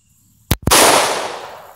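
Two close, sharp reports from a Star BM pistol fired at a target, the second shot following a split second after the first and trailing off into a long ringing decay.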